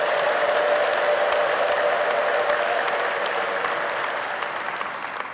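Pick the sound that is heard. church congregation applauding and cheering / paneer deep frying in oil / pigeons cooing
church congregation applauding and cheering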